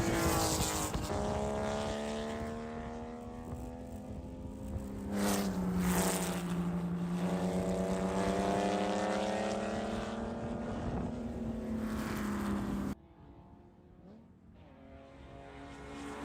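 Porsche Cup race cars in a qualifying session at Chuckwalla roar past one after another, engines holding steady high-pitched notes that swell and fall with Doppler sweeps, loud and close, then cut to a quieter, more distant engine drone.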